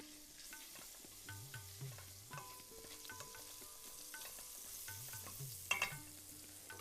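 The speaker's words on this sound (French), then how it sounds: "nous mettons gingembre dans de l'huile" Ginger being fried in heated oil with hing, giving a steady sizzle with stirring scrapes and a brief louder clatter near the end, no talk.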